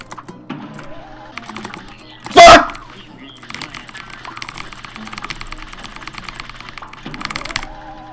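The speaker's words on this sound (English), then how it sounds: "that's probably all you hear is me just tapping at the keyboard" Computer keyboard keys tapped steadily during Cuphead gameplay, the microphone sitting right beside the keyboard, giving close, clicky taps throughout with one loud burst near the start.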